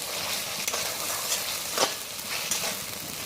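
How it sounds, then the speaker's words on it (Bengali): Ginger garlic paste is stirred into frying onions, making a steady close sizzle with brief scraping strokes from a spoon recurring every second or so. "আদা রসুনটাকে পেঁয়াজের সাথে একটু ভালো করে মিশিয়ে নেব"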